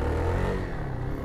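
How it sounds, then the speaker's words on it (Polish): A Zontes VX350 motorcycle engine pulls hard under acceleration, a dense, steady low roar with a broad rumbling body held at a constant loud level for the whole short burst. "Zawsze motocykl ma chęć przyspieszać."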